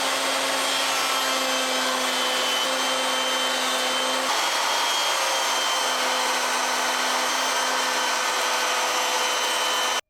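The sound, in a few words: router table cutting rabbet in wood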